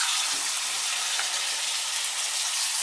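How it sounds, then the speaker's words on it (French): Marinated chicken pieces searing in a frying pan over high heat, giving a steady, close hiss of sizzling fat that stays even and bright for the whole stretch, with no voices. "Donc là maintenant, on va le mettre dans la poêle."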